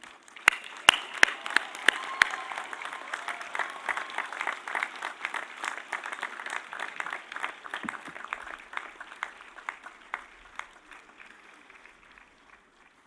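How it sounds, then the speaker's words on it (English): Sustained audience applause fills a college commencement ceremony, dense clapping from a large crowd with sharper nearby claps standing out, gradually thinning and fading toward the end. "join me in giving a round of applause to your friends"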